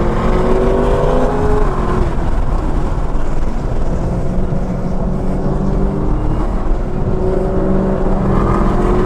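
Chevrolet Camaro ZL1 1LE held at full throttle on the Sebring race track in stock form, its engine roaring loud and sustained from the cabin with shifting pitch as it climbs through revs.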